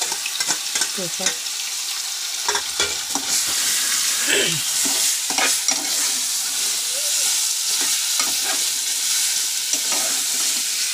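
Mutton rassa curry sizzles loudly in a pot with masala paste while a spoon stirs and scrapes through it, steady close frying hiss with repeated stirring knocks, and a brief spoken word over it.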